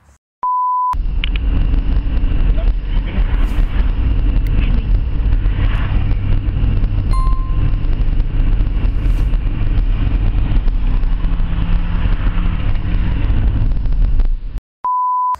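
A 1929 Chevrolet car drives past in a steady loud rumble with heavy wind buffeting on the microphone, bracketed by short electronic beeps at the start and end.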